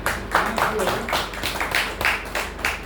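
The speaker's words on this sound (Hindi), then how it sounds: "एक बार जोरदार तालियां" Rhythmic group clapping in unison after a call for loud applause at a Hindi poetry recitation, steady beats repeating for a few seconds with a voice faintly underneath.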